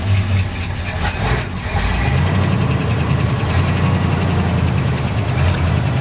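A 429 Cadillac V8 with automatic transmission running in a 1931 Willys hot rod, a loud, close, deep steady engine rumble that fills the whole stretch.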